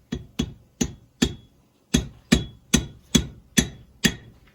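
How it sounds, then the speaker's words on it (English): Light hammer taps drive a pin into a brass dial row counter, about ten crisp, close knocks in an even rhythm with one short pause partway through. "We take the pin, and we just tap it in."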